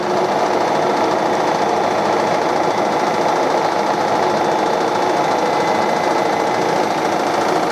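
A Reinecker gear hobbing machine cutting a thread runs with a steady, dense mechanical whir and rapid rhythmic clatter, constant and close throughout.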